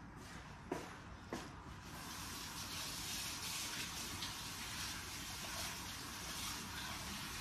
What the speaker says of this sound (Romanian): stai să mă spăl pe mâini